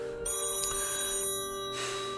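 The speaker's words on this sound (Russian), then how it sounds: "3-й раз звонит" A telephone rings indoors in a Russian detective drama, with a clear electronic trill that sounds in two bursts separated by a short pause, moderately loud and unaccompanied.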